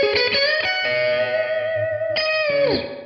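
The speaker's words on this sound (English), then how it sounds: "that sounds much better, much more like the sort of reverb sound that we want to hear" Electric guitar through an amp with reverb run in its effects loop into speaker cabinets: distorted chords ring out with a long reverb tail, then a fresh strum and sliding note fade at the end.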